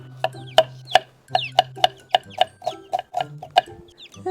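Small chicks peep and cluck in a quick, uneven series of sharp calls, close by, with a low steady hum underneath and no talking.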